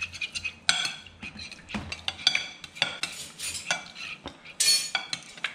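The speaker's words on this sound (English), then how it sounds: "Just gonna stir it around." Soy sauce is stirred in a pan with a utensil, giving rapid close scraping and clinking against metal in an irregular rhythm, with a faint sizzle beneath and no talking.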